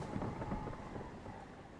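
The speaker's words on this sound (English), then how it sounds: "The storm came out of nowhere." Storm in the video game Survival: Fountain of Youth, a low, faint rumble of thunder rolling with wind and rain noise, fading slightly over a couple of seconds.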